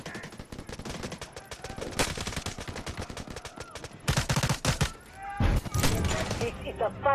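Rapid bursts of automatic gunfire and heavy shots in the shooter game Delta Force, loud and dense with short pauses, mixed with in-game radio voices and a player talking.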